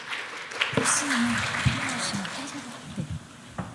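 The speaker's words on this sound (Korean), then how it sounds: "여러분 박수로 환영해 주시기 바랍니다." Applause rises as a presenter is welcomed onto the stage at a PATINEX 2023 intellectual-property service presentation. It is a moderate, continuous clatter, with voiced or tonal sounds heard over it.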